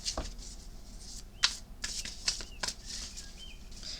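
Cards slide and swish as one is drawn from a shuffled tarot deck, a handful of soft, quick, close papery flicks and rustles that are quiet and crisp, with no talking over them.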